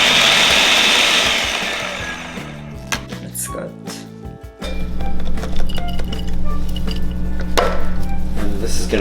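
A food processor pulses falafel mix, its motor whirring in loud bursts with a short pause in between, while glassy clinks and rattling sound at the start.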